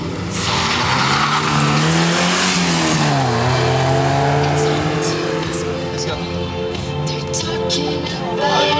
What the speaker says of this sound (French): Il sera suivi par le 136 Michel Ferrand Golf GTI